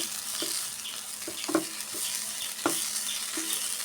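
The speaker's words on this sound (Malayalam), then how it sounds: "ഇതിലേക്ക് തേങ്ങ ചേർത്ത് കൊടുക്കാം ഒന്ന് ഇളക്കി മിക്സ് ആക്കി കൊടുക്കാം" Grated coconut stirred into a frying bitter gourd dish in a pan, a continuous close sizzle punctuated by several scattered scraping knocks of the spoon against the pan, with no talking.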